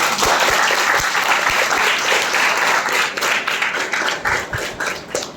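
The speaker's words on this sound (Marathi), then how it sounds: "त्याच्याबद्दल आपण सर्वांनी आत्ताच टाळ्या वाजवू." Audience applause at a Marathi cultural programme, steady dense clapping from a crowd that holds strong for several seconds, then thins into scattered, uneven claps toward the end.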